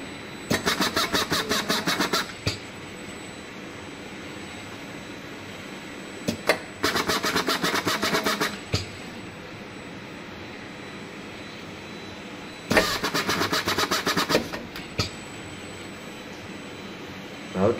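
An ABB IRB 120 robot's electric screwdriver tightens bolts in three separate bursts of loud, buzzing motor whine, each lasting about two seconds and separated by quieter stretches of low background hum.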